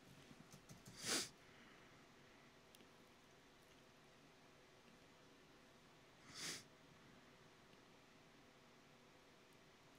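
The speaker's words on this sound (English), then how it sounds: "Oh, I'm gonna sneeze." Two sharp sneezes, several seconds apart, each a brief breathy burst against a quiet hissing background.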